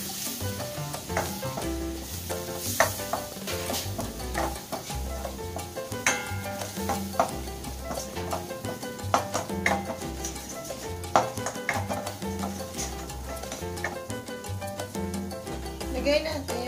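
A flour mixture is stirred in a sizzling frying pan for Filipino baked spaghetti, with steady frying hiss and repeated clinks and scrapes of utensil on the pan, a voice talking over it.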